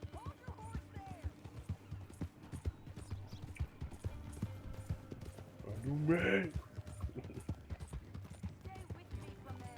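Horse hooves clip-clop steadily in Red Dead Redemption 2, soft and rhythmic under game music and a speaking voice, with a horse's whinny rising briefly midway.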